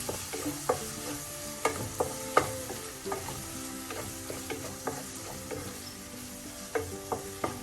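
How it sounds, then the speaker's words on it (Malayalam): Chopped tomato is stirred into a pepper mackerel curry, Kollam style, with soft frying sizzle under repeated clicking, scraping strokes of a spoon against the pan at an uneven rhythm. "തക്കാളി അതും കൂടെ ചേർത്ത് മിക്സ് ചെയ്യാം."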